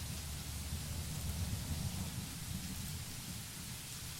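Rain falls steadily in the video game The Letter, a soft, even hiss of downpour with low rumbling underneath, constant and unbroken with no talk.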